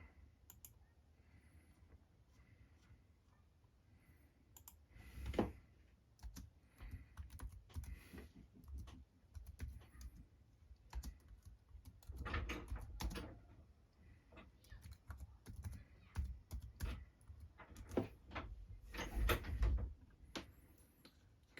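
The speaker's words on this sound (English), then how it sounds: "Maybe I'll type that in." Someone types on a computer keyboard in irregular bursts of quiet, close key clicks with short pauses between, alone without talk.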